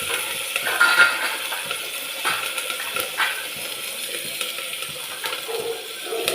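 Sliced onions and curry leaves are sautéed with dried chillies in a pan, giving a soft sizzle broken by light clinks and scrapes of a utensil. It is fairly quiet and close, with no voices.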